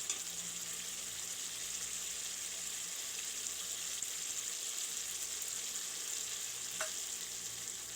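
Yogurt sizzles and fries in a pan of spiced masala, giving a steady, close, even hiss that runs unbroken throughout with no voices.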